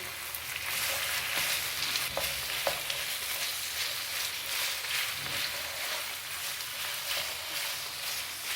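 Small boneless chicken pieces fry in a pan with a steady, dense sizzle and occasional stirring clicks, close and continuous, with no voices.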